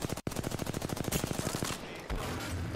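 Rapid automatic gunfire in the Apex Legends video game, a fast, steady burst of close, loud shots lasting under two seconds, followed by a brief trailing rumble.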